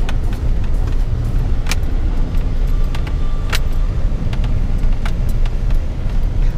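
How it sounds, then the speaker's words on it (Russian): A full-size four-wheel-drive Nissan Armada SUV drives figure eights, giving a loud, close, continuous road and engine rumble with scattered rattles and clicks from inside the cabin. "Надо разгон набрать, чтобы нормально покрутить восьмерки."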